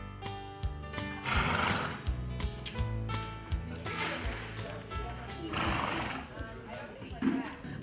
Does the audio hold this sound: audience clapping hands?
no